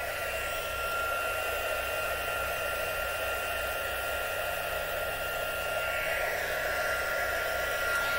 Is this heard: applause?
no